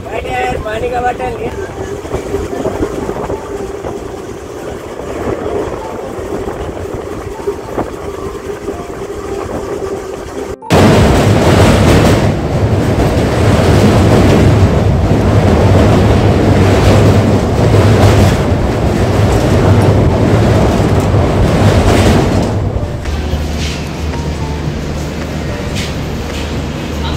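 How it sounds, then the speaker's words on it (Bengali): A passenger train rolls along after leaving the station, heard from on board as a loud, close, continuous rumbling roar with buffeting wind noise that jumps sharply louder partway through and then holds steady. "ফাইনালি দেখতে পাচ্ছেন আমাদের ট্রেন ছেড়ে দিয়েছে।"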